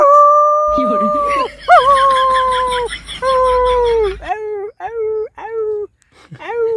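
A voice imitates a dog howling, drawing out one long wavering howl before breaking into a run of short, rising-and-falling yelps and whimpers, loud and close, with a few quiet gaps between cries.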